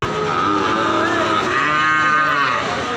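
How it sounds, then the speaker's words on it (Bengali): A Sahiwal cow on a farm gives a long, loud moo close by. The call swells and bends across the whole clip with almost no other sound. "এটাও আসলে এটাও শাহিওয়াল গরু"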